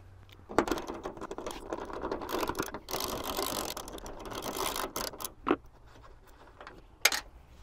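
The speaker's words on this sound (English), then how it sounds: "now we've removed those two bolts" A ratchet undoes the bonnet bolts on a 4x4 while fitting a GMF UHF bonnet antenna bracket, giving long runs of rapid close clicking, then a few sharp single knocks.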